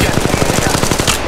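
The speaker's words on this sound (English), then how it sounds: "Under fire here." Rapid automatic gunfire in Apex Legends Mobile, a dense, steady burst of evenly spaced shots rattling loudly and close for just over a second.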